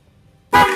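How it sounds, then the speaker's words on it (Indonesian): A premium car horn sounds after wiring, one loud, abrupt blast that starts suddenly and holds steady until it cuts off. "klakson ini tidak akan berfungsi atau bunyi kalau tidak ada tegangan positif di kabel ini"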